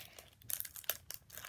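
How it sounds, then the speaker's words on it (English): A small plastic LEGO parts bag is cut open and handled, giving close, quiet crinkling with several sharp rustling bursts and snips, no talk. "once again, we have one mini bag. So let's cut this open."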